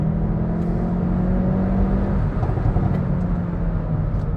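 A 2022 Hyundai i30N facelift, 206 kW with an 8-speed DCT, pulls away under steady acceleration, its engine drone loud and continuous from inside the cabin with a slight dip in pitch midway as it shifts.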